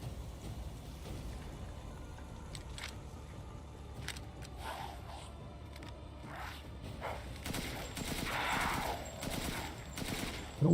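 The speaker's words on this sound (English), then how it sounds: "Now we have an assault rifle." Assault rifle fire in a video game, crackling in rapid bursts that grow louder and denser toward the end, mixed with a steady background bed of game ambience.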